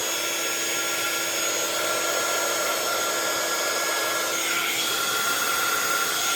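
A heat embossing gun on its higher setting blows hot air in a continuous steady whir, close and fairly loud, alone with no talk.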